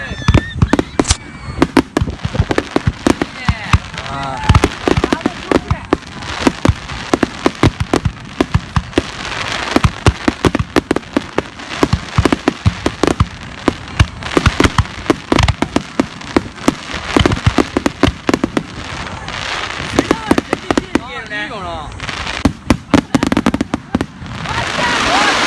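Dense, rapid barrage of fireworks bursting at the Katsushika summer fireworks festival, sharp loud cracks and booms stacking continuously, with crowd voices talking underneath.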